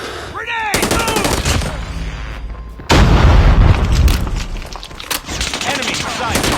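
A loud booming grenade blast in a military shooter game hits near the three-second mark amid ongoing machine-gun fire and short radio-style voice callouts.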